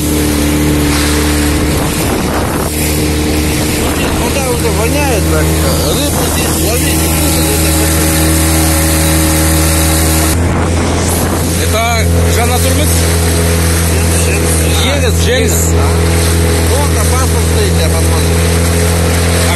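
A car drives along through a flooded village, its engine droning steadily and loud throughout, with splashing and rushing water bursts midway, while people talk over it.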